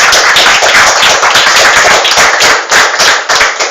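A church congregation applauds, with dense, loud clapping filling the room continuously and no speech over it.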